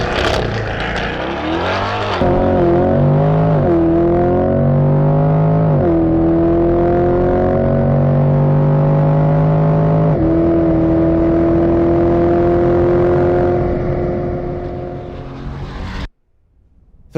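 A Corvette race car accelerates hard away from a pit stop, its loud engine note climbing steeply through rapid upshifts, each gear rising in pitch, before cutting off abruptly near the end.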